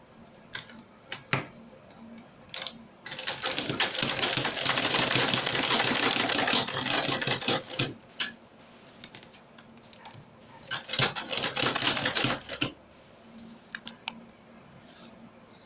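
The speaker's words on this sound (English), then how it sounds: "Then I'll sew the Velcro on top." A sewing machine stitches Velcro onto a backpack in bursts: a long run of rapid stitching, a pause with scattered clicks and handling, then a second shorter run, fairly close.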